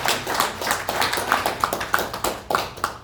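A church congregation claps together during a Sunday worship service, a steady run of sharp, fairly rhythmic claps lasting a few seconds in a reverberant room, with no voices heard.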